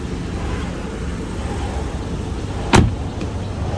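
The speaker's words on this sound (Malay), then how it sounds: "kalau kita masuk ni dia akan keluar dia punya tali pinggang berhantu" A 2013 Mercedes-Benz W207 seatbelt presenter arm extends after someone gets in: one short motorised whir-click rises briefly above a steady, low car-cabin hum.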